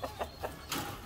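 A Rhode Island Red hen clucks softly in a short burst of three or four quick, faint clucks.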